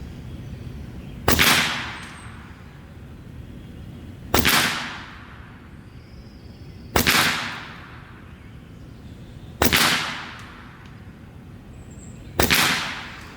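A Skout semi-auto airgun fires 18 grain FX pellets, five sharp, loud cracks spaced about three seconds apart, each with a short fading tail over a quiet background.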